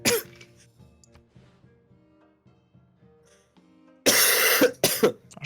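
A few harsh coughs burst out close by near the end, after a stretch of quiet background sound, from someone at a computer during a Civilization VI game session.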